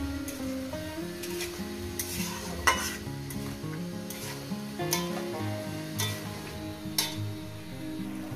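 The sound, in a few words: tomato being sautéed in a pan on medium gas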